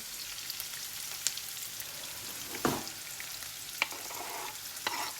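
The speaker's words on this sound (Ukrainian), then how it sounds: "І хай смажиться морква" Carrots fry in a pan with a continuous soft sizzle and crackle, broken by a few sharp clicks and one brief scrape of stirring, fairly quiet and with no talk.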